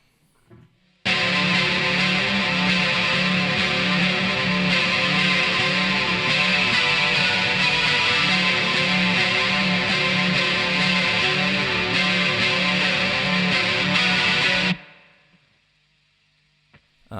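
A heavily distorted, dissonant electric guitar chord rings out loud and sustained for about fourteen seconds, then cuts off abruptly into near silence.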